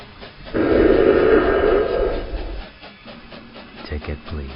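Hiss of a steam train bursts in loud and sustained, then fades into a rough, rumbling chuff with faint clanks and scattered noises near the end.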